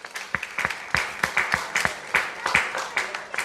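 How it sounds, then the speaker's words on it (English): Audience applause at an award ceremony dinner night hosted by a Nigerian private medical association, with a steady wash of clapping hands and sharper individual claps throughout, moderately loud and sustained. "Another round of applause."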